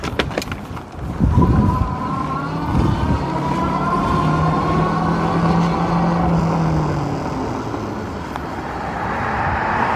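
Forever Blu Bondi e-moped style e-bike ridden outdoors at top speed: steady loud whoosh of wind and rolling noise with a rising motor whine, a few bumps at the start, no talking.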